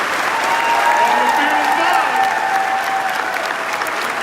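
Steady crowd applause fills a police recognition ceremony honoring officers and families, dense and loud throughout, with a voice speaking briefly over the clapping.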